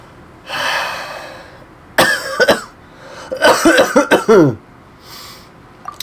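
Someone nearby coughs several times: one rough hack, then a few quick harsh coughs in a cluster, with breathing in between.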